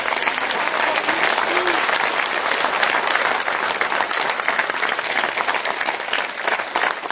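A large crowd at a speech event claps continuously, a dense, steady wash of applause that holds at an even level throughout.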